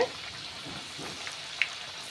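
Rice-flour thattai dough deep frying in hot oil, giving a soft, steady sizzle with faint crackles and an occasional pop.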